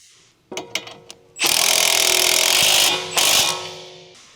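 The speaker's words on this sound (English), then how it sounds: "Use an 18mm deep socket with an electric impact wrench to tighten the sway bar link to strut lock nut." Electric impact wrench with an 18mm deep socket tightening a sway bar link lock nut on a 2007-2013 Acura MDX: a few short clicks, then a loud sustained whirring hammer burst, a brief pause and a second shorter burst, up close.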